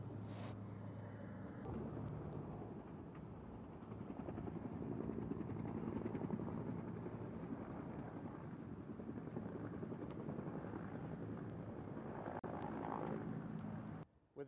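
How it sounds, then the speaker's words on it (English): A steady, heavy rotor drone of helicopters flying over a fast-moving San Diego wildfire fills the air, a broad rumbling roar that swells slightly and holds before cutting off abruptly near the end. "With the helicopters now off to our left"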